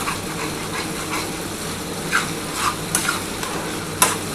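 Spice paste for a katla fish curry is stirred and sautéed in a pan, a steady close sizzle with scraping strokes and a few brighter clinks of the spoon, no one talking.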